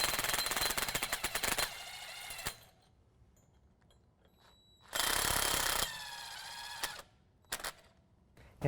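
Power tool buzzing in two loud bursts, with a few shorter rattling bursts near the end, as carriage bolts are tightened on an Air Lift LoadLifter air bag bracket during a truck install.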